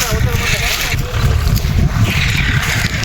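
A tractor hauling a load of manure gives off a loud, steady low engine rumble close by, with a rough, wind-like noise over it throughout.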